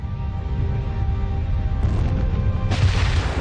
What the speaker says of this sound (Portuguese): O colapso do centro de ferro expele o resto da estrela em uma explosão colossal.